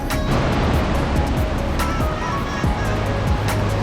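Big waterfall on the trek to Kheerganga, a loud continuous roar of rushing water filling the clip, close and steady with no talking.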